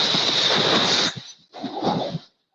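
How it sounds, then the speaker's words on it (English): A car or truck crash sound effect: a loud, harsh crunching burst of impact noise, then a short gap and a second rough, crumbling burst that dies away. Nobody talks. "That's the sound of a big hit on you and your car or truck."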